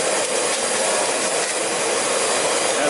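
A Lindhaus HF6 Pro Eco Force commercial canister vacuum cleaner runs with a steady, loud, hissing whoosh of airflow that holds level throughout, with no voices.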